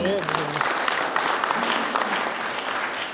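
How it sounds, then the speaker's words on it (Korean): A room full of people at a mayor's press briefing claps steadily, with a voice briefly heard at the start over the clapping. "수고하신 시장님께 다시 한번 큰 박수 좀 부탁드립니다."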